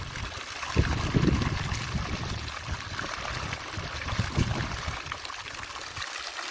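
Water runs steadily from a public drinking tap in the open, a close, continuous splashing stream with a few louder gurgles near the start.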